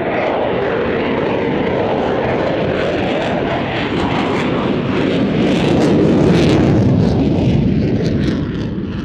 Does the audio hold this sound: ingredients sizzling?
no